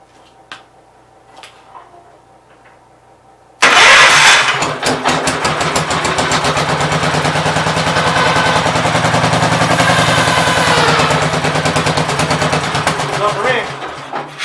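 After a few quiet seconds a Gravely 810 tractor engine catches abruptly and roars into a loud, rapid, rattling run that holds steady close by, a voice briefly audible underneath.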